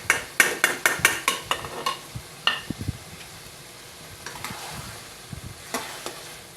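Fried shrimp drop into a curry pan with a quick run of sharp spoon-on-metal clacks, followed by quieter scraping stirring over a gentle background sizzle, no voices.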